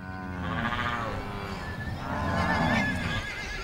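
Horses on a Venezuelan llanos cattle ranch whinny in long, wavering calls, one after another, with a faint clop of hooves and other livestock in the background.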